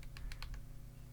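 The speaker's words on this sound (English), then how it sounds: "we move on and try and do a bit of typing" Keystrokes on a WhatGeek Feker Alice80 Corgi mechanical keyboard, five quick clacks in a short burst, close and distinct over a low background hum.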